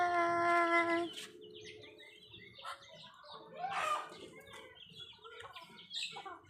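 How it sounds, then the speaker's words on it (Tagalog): Chickens clucking outdoors on an overcast rural day, several short scattered calls near and mid-distance, with other faint bird chirps and a brief steady tone at the start, while a person talks intermittently. "mga manok"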